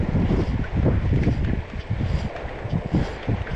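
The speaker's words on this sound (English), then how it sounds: "It's again still super windy." Strong gusty wind buffets the microphone outdoors beside a river, a continuous low roaring rumble with surges and dips and no talking.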